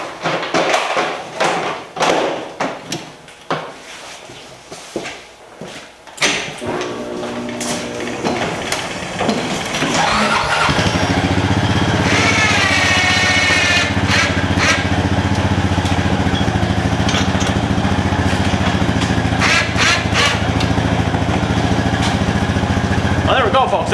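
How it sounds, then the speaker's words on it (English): An ATV quad fitted with a winch mount for a plow starts and settles into a steady, loud idle after some clunks and tapping. A person talks briefly beforehand. "let's fire the quad up and give it a test try"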